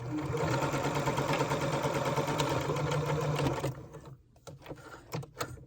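A sewing machine stitches jeans fabric in a fast, steady mechanical whir for several seconds, then stops, leaving a few soft handling clicks and rustles, close and clear.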